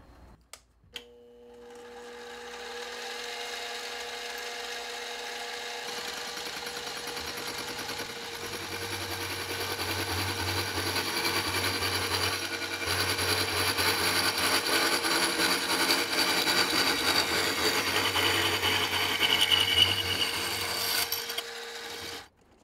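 A power tool cuts a miter into a steel bicycle seat-stay tube with a steady whining hum that climbs gradually in intensity and grinding roughness, running continuously for about twenty seconds before stopping abruptly.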